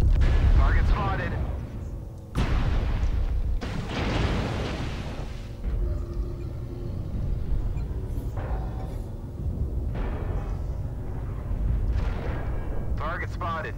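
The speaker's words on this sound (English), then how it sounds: "Artillery strike online" Artillery strike in MechWarrior Online, several heavy blasts and booms in quick succession over constant mechanical rumble, with a voice speaking at times.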